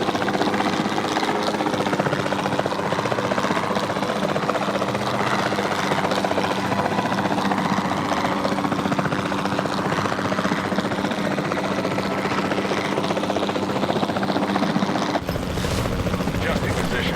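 A helicopter in Jurassic World Evolution 2 hovers with a steady rotor drone and engine whine, loud and continuous throughout, with voices talking over it.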